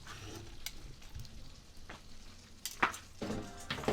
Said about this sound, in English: pan frying or searing it on the cast iron afterwards